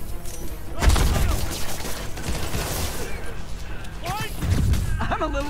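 Gunfire in the video game Marvel's Spider-Man: bursts of shots and impacts crackle through a busy combat mix, with voices talking over the action.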